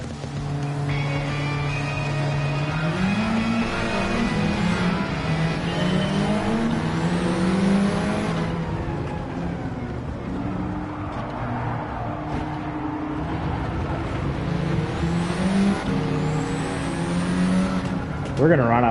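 A Mini Cooper with a swapped engine in Gran Turismo 7 revs hard and loud, its pitch sweeping up and down through gear changes as the engine screams continuously for the whole stretch.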